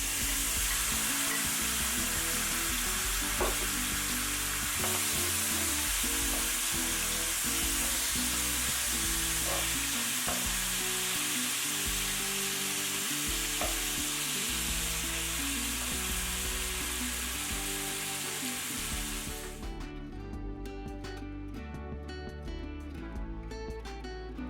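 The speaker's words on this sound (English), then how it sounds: "I'm just adding in the meat now, and we are going to let this sear and cook on each side." Oxtail meat for a Jamaican oxtail dish sears in a hot pan with a loud, steady sizzle that runs unbroken and close, shifting to a thinner, crackly hiss near the end, with no talking.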